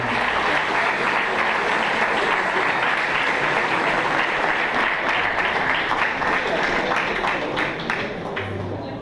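Steady, dense applause from an audience at a Polish event honoring Karolina Józefowicz, loud and sustained throughout, with a voice audible over the clapping and a slight fade near the end.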